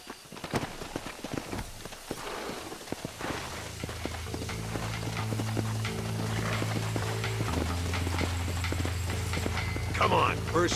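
Horse hooves clip-clop steadily in Red Dead Redemption, a rhythmic walking gait near and clear at first, then sinking under a rising engine-like drone and steady background tones while someone speaks over it.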